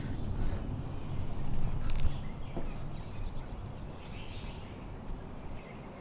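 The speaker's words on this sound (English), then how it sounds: "let me see if I can go ahead and capture some of these birds for you because they're beautiful" Birds sing outdoors in a few faint, brief chirps against steady broadband background noise, with no talking.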